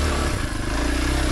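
A Kawasaki KLX 230 motorcycle climbing a steep, curvy hill in first gear: a loud, close, steady single-cylinder engine drone with a buzzy pulsing rumble.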